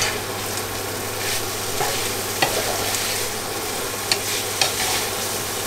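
Onions fry in a pan with mussels and bacon, giving a continuous sizzle broken by several sharp scraping knocks as they are stirred, with no voices.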